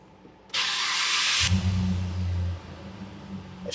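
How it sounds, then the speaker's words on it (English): A car starts without the battery in its key remote. A hiss-like whir of the starter cranks for about a second, then the engine catches and settles into a low, steady idle. "the car can still start"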